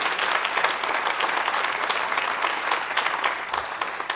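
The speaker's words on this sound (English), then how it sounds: "Let's give the band a round of applause." An audience gives a steady round of applause for a school band led by its director at an event, dense clapping throughout with no talking.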